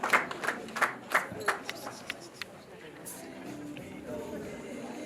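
Wedding guests clap in bursts of uneven, fairly close hand claps that fade into a murmuring crowd, with a voice talking over the gathering.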